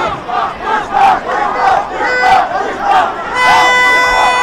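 A large crowd at the grand final of the Magam T20 knockout cricket tournament chants and roars in loud rhythmic waves, with drums being played among the spectators.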